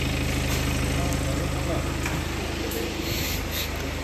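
A BMW X6M engine idles steadily at close range in a repair shop, a continuous low rumble with a faint, even pulsing that holds at the same level throughout.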